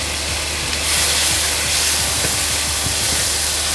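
Soya sauce hits a hot pan of sauteing soya meat with a loud, steady steaming hiss. Sharp sizzling crackles and pops run through it.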